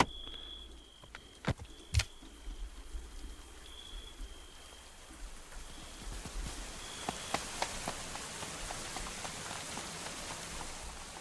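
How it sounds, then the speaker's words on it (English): Steady rain falls in the medieval colony-building game Going Medieval, a continuous hiss of drops with a few sharper ticks and taps rising over it, moderately loud and with no talking. "Again, all the rain."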